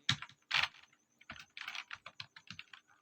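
Code is typed on a computer keyboard with quick, irregular bursts of keystrokes separated by short pauses, faint and close, with no talking.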